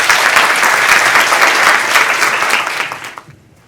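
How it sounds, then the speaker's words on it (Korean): Loud, dense applause from a conference audience at an international academic meeting on history and constitutional law, sustained for several seconds before tapering off near the end, with no talking over it. "스테판 잠재 소장님께 다시 한번 큰 박수 부탁드립니다"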